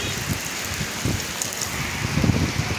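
Steady rain falls on a street in Konabari, Gazipur, near Dhaka, after a day of downpour. It makes a continuous close hiss with scattered drip and splash patter, and no one talks.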